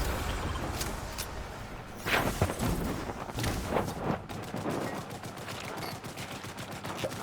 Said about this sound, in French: Ouais, ça tire de partout.